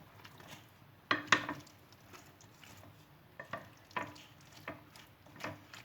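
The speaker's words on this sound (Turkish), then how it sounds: "Evet bakın bir güzel karıştırdım." Raw Antep tava meat mixture stirred in a bowl by hand, giving faint, soft squelching and scraping bursts at irregular intervals, close up and quiet, with no speech.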